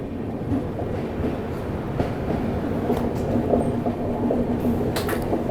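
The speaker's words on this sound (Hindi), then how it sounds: "दूसरी कोणार्क एक्सप्रेस जो कि भुवनेश्वर की तरफ जा रही है वो अराइव्ड हो रही है पलासा पे" Konark Express pulling into Palasa railway station in Srikakulam district, bound for Bhubaneswar, with a continuous heavy rumble of rolling coaches, faint creaks and light rail clatter close by, no voices.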